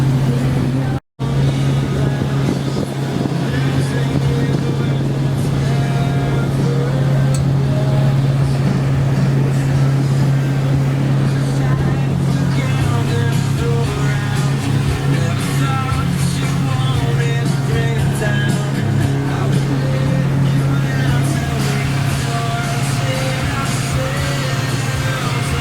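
Steady low drone of a Carver Mariner 350 cruiser's inboard engine running smoothly while under way at night, a continuous loud hum throughout with faint water and hull noise.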